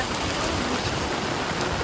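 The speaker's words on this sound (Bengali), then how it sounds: "পুরোটা রাস্তাতে বৃষ্টি হচ্ছে।" Heavy rain pours onto a flooded road, making a dense, steady, close hiss with no breaks or voices.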